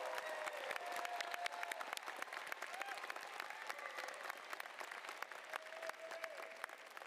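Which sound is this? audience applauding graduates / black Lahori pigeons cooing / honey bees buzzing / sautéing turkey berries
audience applauding graduates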